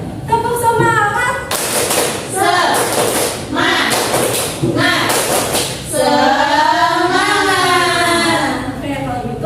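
A sixth-grade primary school class performs a rhythmic spirit clap (tepuk semangat), sharp hand claps in quick patterns mixed with children chanting together, loud and close throughout.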